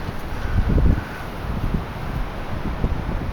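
Gusty wind from Storm Katie buffets an outdoor microphone, making low rumbling blasts that peak early and then settle into a softer, unsteady roar with faint rustling.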